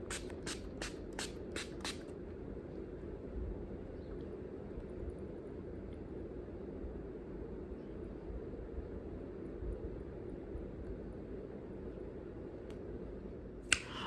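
Six quick spritzes of a makeup setting spray bottle in rapid succession, then a long steady low hum, and one more short spritz at the very end.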